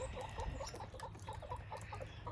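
Brahma chickens cluck softly in short, repeated bursts at a treat block outdoors, a steady low chatter from a small flock, faint and close.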